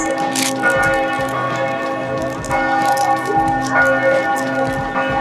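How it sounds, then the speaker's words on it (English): Church bells in Vienna, Austria ring out loudly and continuously, several bells overlapping in a steady pealing with rich ringing tones that sustain throughout. "Church bells going off."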